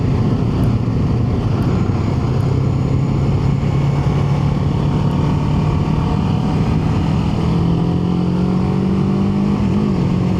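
A Kawasaki Ninja 7 HEV hybrid motorcycle ridden in sport mode, its engine holding a steady hum that rises slightly in pitch near the end, heard over constant loud wind rush with no talking.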